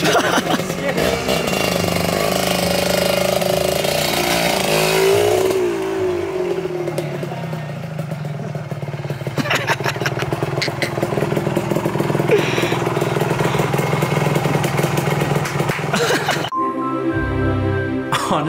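Small kids' motorbike engine close by, revving up and settling to a rough idle with a buzzy, uneven tone, a sharp drop near the end, voices faintly mixed in.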